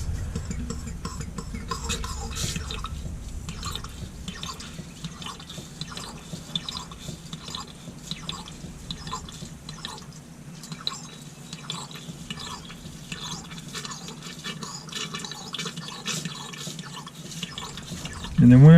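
Fuel drains from a tank into a can in a continuous trickling, dripping stream that steadies and thins over time, heard close up with a person talking intermittently.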